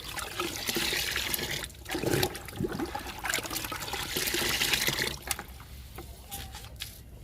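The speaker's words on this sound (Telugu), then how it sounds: "ఇరవై లీటర్ల బకెట్లో ఇప్పుడు లిక్విడ్ కలుపుతున్నాను" Liquid is poured and mixed into a 20-litre bucket holding about 17 litres of water, making a steady splashing trickle with a few louder gushes that eases off toward the end.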